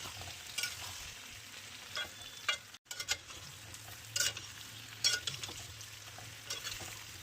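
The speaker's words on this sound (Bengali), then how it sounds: "আলুটা আমার বেশ ভালো করেই ভাজা হয়ে গেছে" Potatoes frying in oil for Bengali aloor dom, with a soft, steady sizzle and occasional brief stirring scrapes, heard alone without talk and with one short dropout partway through.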